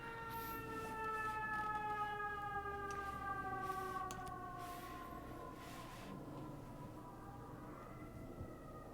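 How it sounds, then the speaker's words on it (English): An ambulance siren wails outside, a clear pitched tone with audible harmonics that sweeps and slowly drops in pitch as the vehicle passes, moderately loud and distant. "I don't know if you guys can hear the ambulance."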